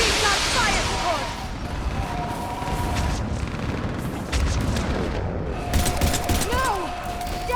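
Gunfire and fire support in a Mass Effect 3 battle on the Asari homeworld Thessia: dense, continuous shooting and booming blasts with rising whines, and voices shouting over the combat.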